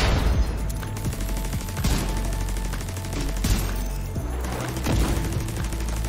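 Rapid bursts of automatic gunfire in the video game The Division 2, dense and loud over a low rumbling backdrop, shots firing continuously without pause and no one speaking.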